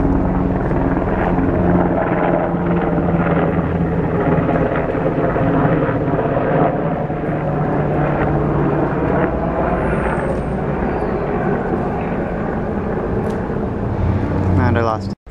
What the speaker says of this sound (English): we got the choppers as usual